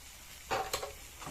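Dry chilli powder and spices sautéing in a pan for a mustard pabda fish curry. Two short sizzling bursts with faint stirring and scraping against the pan, fairly quiet with no talk.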